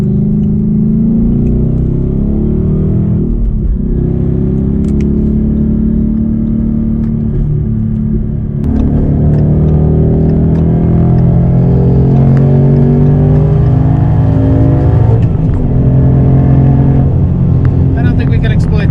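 A Roush Warrior car accelerating onto the Autobahn, its engine a loud, low rumbling drone heard from inside the cabin, rising in pitch as it pulls, with a brief dip midway before climbing again.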